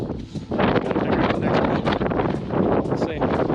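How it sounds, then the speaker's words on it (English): Strong gusting wind buffets the microphone outdoors while hiking at Deer Valley near Park City, Utah, loud and roaring with uneven surges, and a voice is partly audible beneath the rumble. "It's nice out, but it's freaking windy."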